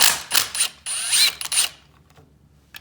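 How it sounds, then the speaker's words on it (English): A ratchet loosens the crankcase bolts on a Yamaha YFZ450 engine. Several loud, close bursts of rapid clicking come in quick succession, then fade to quiet near the end. "But let's start getting these bolts out of here."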